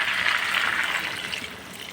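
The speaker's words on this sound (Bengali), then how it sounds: "চলো জলটা দিয়ে দিলাম" Water poured into a cooking pot during home curry preparation, a steady close splashing gush that runs continuously for a couple of seconds with no talk.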